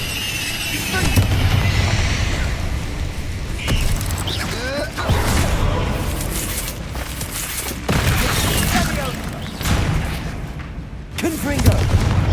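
Repeated Confringo fire spell blasts from the Hogwarts Legacy video game, a series of booming bursts and crackling impacts at intervals amid combat noise, with a voice shouting over them.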